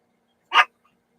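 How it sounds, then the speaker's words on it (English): A single short bark from a pet dog indoors, a brief sharp burst standing out against an otherwise quiet room. "That's Mama's dog."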